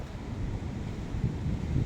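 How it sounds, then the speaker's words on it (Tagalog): Strong wind gusts across a Boracay beach on a choppy day at the sea, a steady low roaring rush buffeting the microphone and swelling slightly toward the end, with no voices. "Medyo mahangin ngayon guys."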